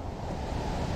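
Strong, steady typhoon wind roars continuously, dense and blustery with no let-up.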